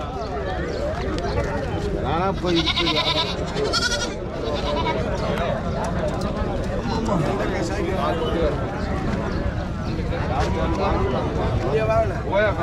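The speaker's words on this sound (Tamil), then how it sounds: "செம்மறி ஆடுங்க வெள்ளாடு ரெண்டுமே கலந்து தாங்க வருது" A busy livestock market in Matrapalli with mixed sheep and goats, including young ones, bleating repeatedly amid a crowd of talking voices, loud and close throughout.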